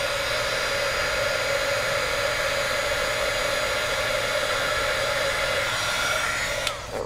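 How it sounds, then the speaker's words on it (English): A heat gun blows with a steady, loud, close whooshing roar that holds constant throughout and cuts off abruptly at the very end. "I found one spot that I need to hit with the heat gun."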